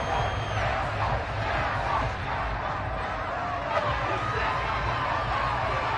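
A stadium crowd in an American football video game roars and cheers steadily after a defensive stop, a continuous wash of noise with a commentator's voice over it.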